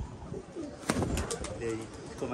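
Pigeon cooing close by, a low soft warble heard over steady background noise and light rustling, sounding around pigeon keepers at a rooftop flying session.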